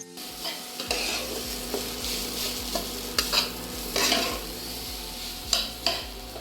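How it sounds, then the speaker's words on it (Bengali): Spicy semolina is stirred in a frying pan over a soft steady sizzle, a spoon scraping and knocking the pan in repeated strokes up close, with no talking. "তাড়াতাড়ি করে আমি ওর জন্য একটু ঝাল সুজি বানিয়ে দিচ্ছি।"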